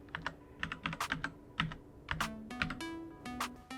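Typing on the keyboard of a Lenovo Legion 5 gaming laptop: close, crisp key clicks in quick irregular bursts, a few short pauses between runs, with no talk.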